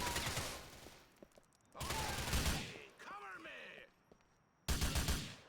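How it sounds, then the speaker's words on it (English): Shotgun fire in Grand Theft Auto IV comes in three heavy, booming bursts of blasts spaced a couple of seconds apart, with quieter game sounds between them. "Why is he trying to shoot me with a shotgun?"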